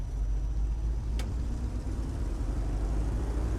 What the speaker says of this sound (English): So go ahead and throttle it up and